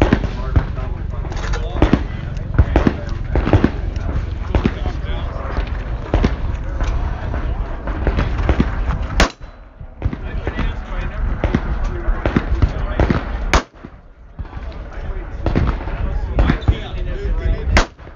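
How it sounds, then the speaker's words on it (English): A 9mm concealed-carry revolver fires a steady series of sharp, loud shots outdoors, spaced roughly a second apart, with a brief pause midway and a voice speaking between some reports. "we'll go ahead and put some rounds down range."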